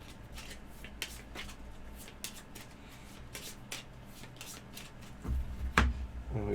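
CoraQuest board game cards are shuffled by hand in quick, crisp riffling bursts close up, ending in a few louder handling thumps.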